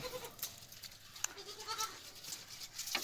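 A goat bleats faintly a few times amid quiet outdoor background noise, the calls short and spaced out.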